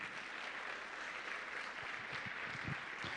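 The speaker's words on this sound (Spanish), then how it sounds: "Una vez más vamos a dar fuertes aplausos" A church congregation at a Sunday service applauds a singing group, soft and distant clapping spread evenly through the room, steady and faint throughout with a few sharper claps toward the end.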